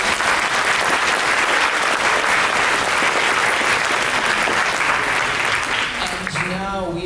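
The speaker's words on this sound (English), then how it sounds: "let's have a big applause now for the whole round" Loud, dense audience applause after a round of a physics tournament final, sustained evenly before fading as a voice begins speaking at the end.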